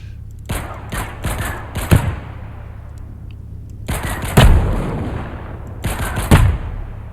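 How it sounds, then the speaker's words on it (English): Gunfire in the video game Heat Death Train comes in three loud, close volleys of rapid shots, each a cluster of sharp cracks with quieter pauses between. "Oh, some pretty good shooting on my part"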